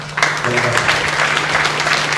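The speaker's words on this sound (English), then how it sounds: "Give him one more round of applause." A crowd claps steadily throughout, a dense burst of applause with voices faintly mixed in.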